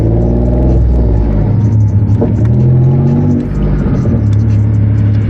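Alphaspeed-tuned Hyundai Genesis Coupe 3.8 turbo pulling hard in third gear, a loud, close, continuous engine roar that climbs steadily in pitch, with a brief dip near the end.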